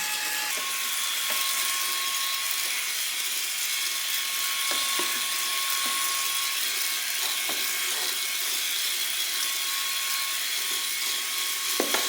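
Xiaomi Mi Vacuum Cleaner Mini with its nozzle brush, cleaning dust off furniture, gives a steady high-pitched motor whine with a faint constant tone and occasional brief clicks as the brush bumps surfaces.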